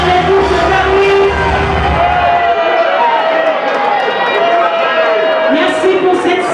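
A loud crowd cheers and whoops for a Paris team member at an integration tournament award ceremony, a continuous roar of voices with shouts rising above it, close and sustained throughout.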